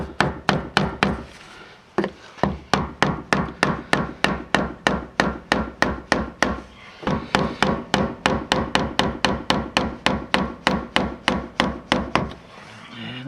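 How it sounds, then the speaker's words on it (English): Steady, rapid hammer taps tightening a hard fitting during a 1997 Land Rover fuel pump install, dozens of sharp evenly spaced strikes with two brief pauses, loud and close. "Take our hammer and tighten it up a little bit"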